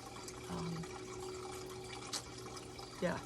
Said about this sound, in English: Maybe I should have turned that water off.